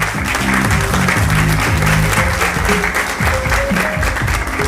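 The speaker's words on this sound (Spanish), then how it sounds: "Fuerte el aplauso para Matías Jálava." An audience at a cultural ambassadors election event in Villa Angela breaks into loud, close applause, while music with a low, rhythmic tone plays underneath throughout.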